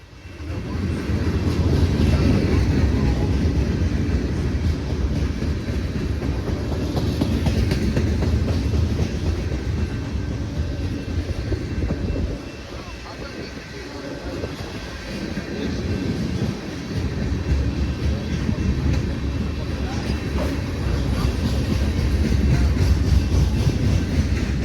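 A Norfolk Southern freight train rolls past on the tracks with a loud, sustained rumble and rhythmic clatter of wagons, dipping briefly midway before the steady roar returns.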